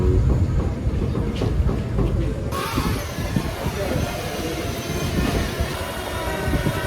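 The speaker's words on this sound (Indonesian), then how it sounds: "Ini anginnya kenceng banget ya." Strong wind outdoors during a FIMI X8 Mini SE drone flight, heard as a loud, continuous low rumble and buffeting hiss that thickens partway through, with voices faintly present.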